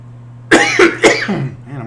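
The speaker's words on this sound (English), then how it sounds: "Man, I'm coughing." A person coughs several times in quick succession, loud and close, two or three harsh bursts followed by a quieter throaty trailing sound.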